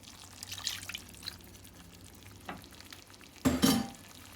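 Spices cooking for a Guyanese and Trinidadian bunjal dish as a little water hits the pan, giving a close, brief burst of sizzling near the end after quieter stirring sounds, with no talking.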